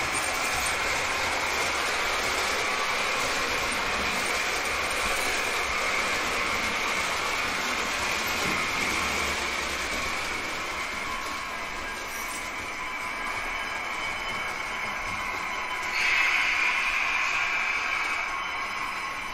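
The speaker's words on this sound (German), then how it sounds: "Der DB Regio Doppelstockwaggenzug von Märklin macht sich nun mit seiner Baureihe 102 auf den Weg zu Gleis 1" A Märklin H0 model train, a DB Regio double-deck set hauled by a class 102 locomotive, rolls along its track with a steady, continuous whirring rumble, and a brief metallic squeal rises near the end.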